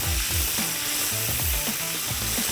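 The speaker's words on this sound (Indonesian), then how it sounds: "Ini sampai aromanya keluar, langsung kita siram dengan air ya." A loud, continuous sizzle of water poured into a hot frying pan with aromatics, with faint rhythmic scraping or stirring underneath.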